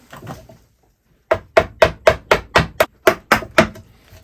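A chisel carves a bass guitar body out of wood, heard as a short scrape and then about ten sharp, evenly spaced strikes in quick rhythm, close and loud.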